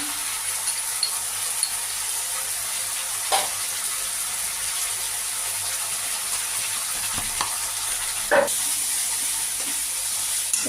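Tomatoes frying in a pan for rohu fish curry give a steady hiss with occasional soft stirring knocks, no voices present.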